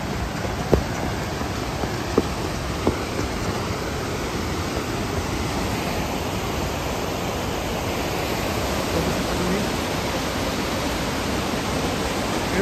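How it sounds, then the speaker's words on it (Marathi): A small waterfall on the Kutla trek near Kasol, a steady broadband rush of falling water that stays loud and close throughout with no voices over it. "छोटा वॉटरफॉल आहे"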